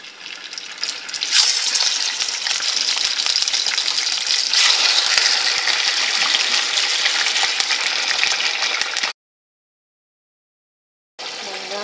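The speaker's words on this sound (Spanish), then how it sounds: "en una olla o cacerola con aceite, vamos a empezar a agregar los bisteces" Beef steaks hit hot oil in a pot and fry with a loud, steady hiss and crackle that keeps going, briefly cuts out near the end and then resumes, with no talking.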